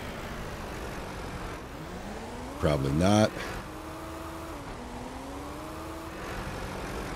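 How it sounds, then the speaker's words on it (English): A tractor in Ranch Simulator drives with a steady mid-pitched engine drone throughout, its pitch shifting slightly as it moves, with a brief louder burst of talk over it partway through. "Tractor just seems way too fast for me."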